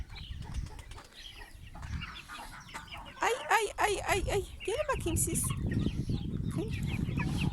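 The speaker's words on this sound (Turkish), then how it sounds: "Burası tavuklarımızın bahçeleri." Chickens cluck and squawk nearby in their garden run with some wing flapping, while someone talks over them outdoors.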